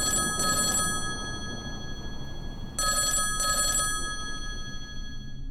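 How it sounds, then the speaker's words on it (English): A telephone bell rings in two loud, close bursts, each a pair of rapid metallic trills, with a pause of about two seconds between them over a faint low hum. "Then one day, I got a phone call I thought would never come."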